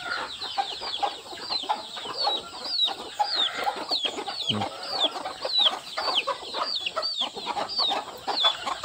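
Country chickens on a farm clucking and calling repeatedly at close range, a busy overlapping chorus of short cackles and chirpy notes with a brief low thump midway.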